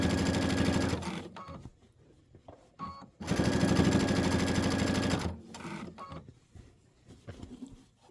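A sewing machine stitching Kimberbell Enchanted Winter quilt pieces runs in two long, steady, close-up whirring bursts separated by quieter pauses with light handling clicks, and no talking.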